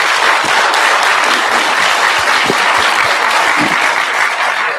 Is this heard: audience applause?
yes